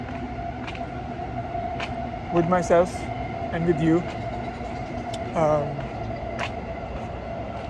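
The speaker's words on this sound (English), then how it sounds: "Yeah, that's the train I'm going to be on." A passing 2 line train rumbles steadily with squealing wheel screeches rising at intervals, heard outdoors under a person speaking nearby.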